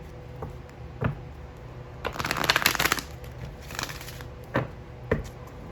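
Tarot cards being shuffled up close, with a few soft taps followed by a dense riffling burst and a second shorter riffle, then scattered light card knocks.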